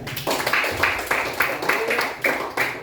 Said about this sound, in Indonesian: Tepuk tangan dulu untuk Valen.